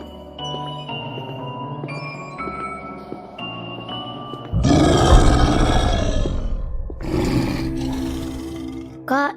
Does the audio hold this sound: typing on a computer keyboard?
no